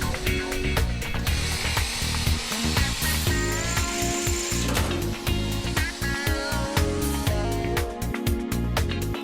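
A power drill bores 6.8 mm holes through a car body panel during an Opel panel repair, running as a continuous loud whine and grind close up, with no voices over it.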